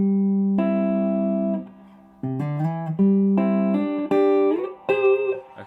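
A guitar chord is played as an arpeggio, one note at a time. Clear sustained plucked tones step through several pitches in sequence, ringing and overlapping with no talk.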